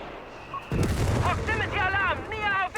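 In Company of Heroes 3, German fire cuts into Italian infantry: a sudden loud burst of gunfire and booming impacts erupts after a quiet start, while a commentator talks over the battle.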